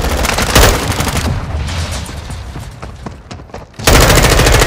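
Automatic gunfire in Call of Duty: Modern Warfare II, loud and close, opening with a heavy burst, thinning to scattered shots, then erupting again into dense fire at the end.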